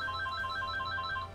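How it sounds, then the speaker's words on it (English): A phone rings during a livestream of an online Culdcept Revolt match, giving a repeating electronic ringtone with short evenly spaced tones over a low background hum. "Sorry for the phone call."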